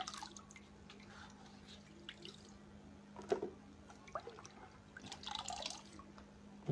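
Water drips from dyed fabric just lifted from a dye bath during tie-dye or batik work: faint, scattered drips over a steady low hum, with one slightly louder splash in the middle.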